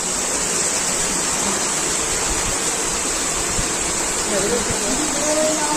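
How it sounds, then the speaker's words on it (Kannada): Continuous loud rush of water falling from above inside the cave of Gavisiddalingeshwara Temple, Gurumitkal, echoing, a steady roar with no break. "ಈ ರೀತಿಯಾಗಿ ಮೇಲಿಂದ ನೀರು ಹರಿತಾ ಇರುತ್ತೆ"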